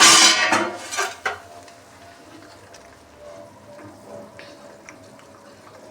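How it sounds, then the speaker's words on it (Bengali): A metal lid is lifted off a pot of Bengali fish curry, giving a couple of loud clanks and scrapes of metal up close, then quiet bubbling and faint kitchen clatter. "বন্ধুরা, এবার ঢাকাটা খুলে দেখব কেমন কালারটা এসছে ঝোলের।"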